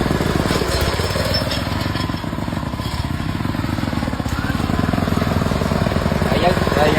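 A mini tractor's small engine runs steadily with a rough, rapid chugging throb as the gears are shifted, loud and close throughout with no clear break in the engine note.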